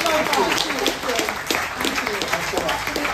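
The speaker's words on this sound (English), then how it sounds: "Can we give them a really massive round of applause?" Audience at the Truro Food Festival clapping in a dense, steady round of applause, loud and close throughout, with some voices mixed in.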